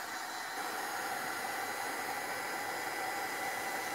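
A heat tool blows a steady, unbroken roar of hot air while drying paint on an altered toy horse in a craft project, close and loud throughout with no speech.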